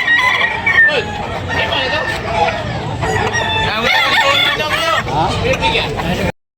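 Several roosters crow over a busy, noisy crowd at a poultry market in Tabunok, with clucking and overlapping voices chattering close by throughout.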